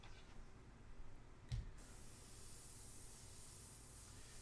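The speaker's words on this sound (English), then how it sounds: "Make sure the airbrush is working and it's behaving" An airbrush sprays in a faint, close hiss that swells sharply after a soft tap and then holds as a steady airy rush.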